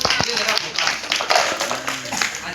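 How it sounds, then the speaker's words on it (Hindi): An audience clapping, a crowd's applause running steadily through the moment with a voice talking over it. "तुम्हारे चल के यहाँ ताली बजाओ"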